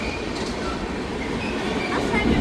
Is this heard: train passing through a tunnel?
yes